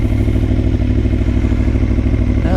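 An Aprilia Tuono motorcycle engine running in gear on a neighborhood ride, a loud, close, steady throbbing roar with a fast, even pulse.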